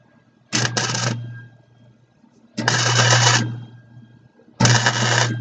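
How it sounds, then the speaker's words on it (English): Three bursts of MIG-style welding crackle as a homemade pitman arm is welded onto a homemade go-kart's steering, each a steady buzzing run of about a second or more, close and fairly loud, separated by brief quiet pauses. "I went ahead and I made my pippin arm. I'm just going to weld it on."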